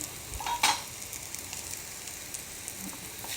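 Ingredients frying in a pan for puffed-rice upma, a steady soft sizzle throughout with a brief sharper crackle and clink near the start.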